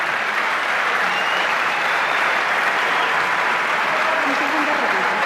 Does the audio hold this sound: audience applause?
yes